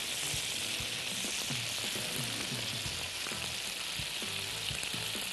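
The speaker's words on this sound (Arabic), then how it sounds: "احنا كده بنحمرها لغايه ما تبقى، وبصوا ادي البصل برضو بحمره." Onions frying in a pan, a close, steady sizzle and crackle that runs without a break.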